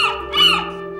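A large bird lets out a loud, close squawk, one harsh call with a brighter second burst in the middle, as a sound effect in a children's Panchatantra story.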